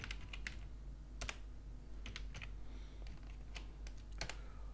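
Keys clatter on a computer keyboard while text is typed into a Microsoft Word document, a steady run of quiet clicks with short bursts and pauses against a low background hum.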